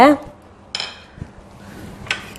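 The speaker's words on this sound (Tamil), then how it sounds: "அதுலேயே இந்த 15 சின்ன வெங்காயம் உரிச்சு வச்சுருக்கேன் இல்லையா, அதை போட்டுக்கிறேங்க." Fifteen peeled shallots going into a pressure cooker that already holds toor dal, for sambar: a ringing metallic clink at the start, then a few scattered knocks and clatters against the pot.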